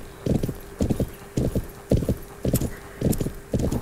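Hooves clip-clop in a horse video game, paired double beats repeating at a steady rhythm about every half second, clear and fairly close over quiet background.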